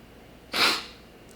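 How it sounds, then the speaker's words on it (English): A man sneezes once, a single sharp, breathy burst close to the microphone, standing alone against a quiet background. "Oh, gotta sneeze."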